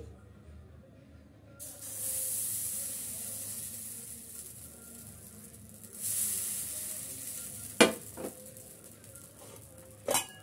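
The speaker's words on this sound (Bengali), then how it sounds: "পিঠাটা ভেজে নেব" Sweet chitoi pitha batter frying in a covered clay mould, giving a bright steady sizzle that swells twice and fades, with a few sharp clinks of a lid or utensil toward the end.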